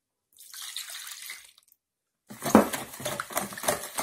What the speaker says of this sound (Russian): Наливаю 250 грамм теплого молока.